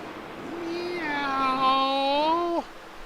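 A person's voice imitates a cat, giving one long, drawn-out meow that rises and falls before cutting off abruptly, heard close and clear during racing-league commentary.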